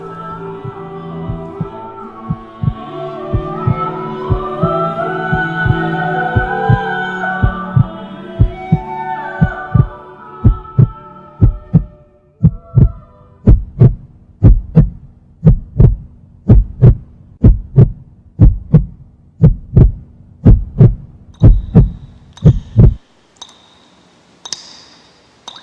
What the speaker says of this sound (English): perhaps we can even hear our own heartbeats